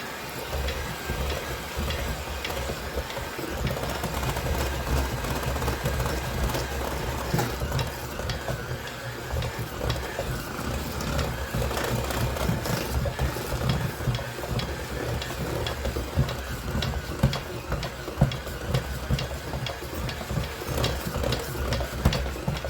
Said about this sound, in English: mix this on low speed until it's combined and smooth, but we don't want to overmix it